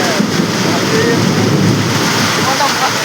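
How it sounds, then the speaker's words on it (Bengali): Heavy rain pouring outdoors in Garia, Kolkata, with strong wind, a loud constant roaring wash, close and steady throughout. "বৃষ্টি কিন্তু ধুমা হচ্ছে বৃষ্টি"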